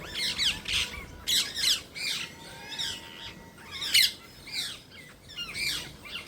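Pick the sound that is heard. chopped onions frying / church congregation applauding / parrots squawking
parrots squawking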